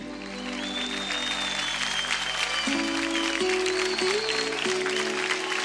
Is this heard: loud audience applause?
yes